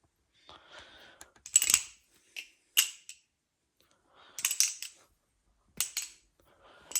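Metallic clicks and clacks from an Armed Shark Glidr balisong knife flipped through a double scissors trick, sharp ticking bursts in short clusters separated by brief pauses, close and alone with no talking.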